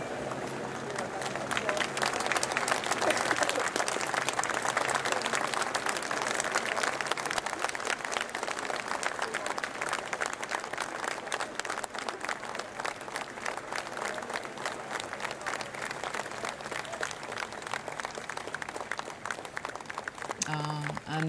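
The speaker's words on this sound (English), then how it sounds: "many people clapping as the cortege goes past" Crowds lining the streets of Edinburgh clap as Queen Elizabeth's coffin cortege passes. The applause is steady and spread out, with many distant hands over an open-air murmur, slowly thinning and then lifting again near the end.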